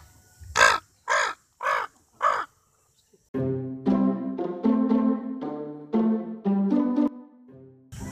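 A performer on a Manado stage show imitates a crow, voicing a run of loud, harsh caws: four spaced calls, a short pause, then a longer string of rapid, throaty caws close to the microphone.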